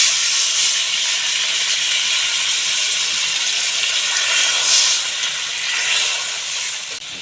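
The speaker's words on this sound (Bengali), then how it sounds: "পটল আলু মশলা সব ভালো করে লাল লাল করে কষিয়ে নিয়েছি অল্প করে জল দেবো" Water poured into a pan of fried pointed gourd, potato and spices, producing a loud, steady, steamy sizzle and hiss that carries on alone and fades slightly toward the end.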